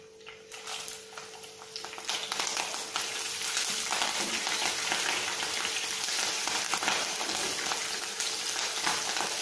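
Dried red chilies and green chilies frying in hot oil for a vendakkai puli kuzhambu, giving a steady, dense crackling sizzle that swells after the first couple of seconds and holds close and loud throughout.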